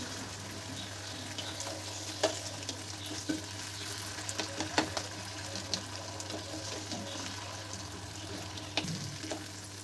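A ridge gourd and potato curry, giving off a little water, is stirred in a pan over soft, steady frying, with light scrapes and taps of the spoon recurring throughout.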